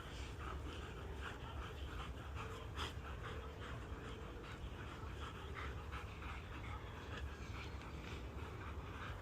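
A search dog pants rapidly and continuously close by, a steady breathy rhythm running alone for the whole stretch.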